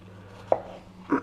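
A knife slicing through a peeled potato on a cutting board, giving two distinct crisp cuts about half a second apart, close and clear over a low steady hum.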